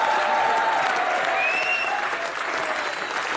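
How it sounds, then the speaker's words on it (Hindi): A studio audience at a comedy show gives loud, dense, sustained applause that holds steady throughout, with a faint tonal whistle-like sound riding above it. "इसके लिए तो जोरदार तालियां।"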